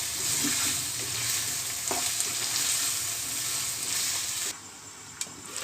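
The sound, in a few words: stirring and cooking qeema karela with garam masala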